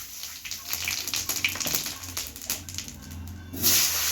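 Whole cumin seeds hit hot oil in a pan that has just fried small fish, giving a steady close hiss and crackle that swells louder near the end, no voices.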